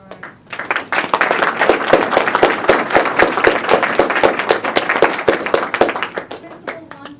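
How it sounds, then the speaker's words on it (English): Audience applause at a high school college night event, dense steady clapping from many hands that swells quickly and holds for several seconds, fairly loud and close, with faint voices mixed underneath. "One last round of applause for our"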